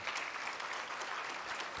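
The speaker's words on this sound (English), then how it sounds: "I'm so glad y'all clapped for that." A conference audience claps steadily at a statewide equity plenary session, a dense even wash of applause filling the whole stretch without voices on top.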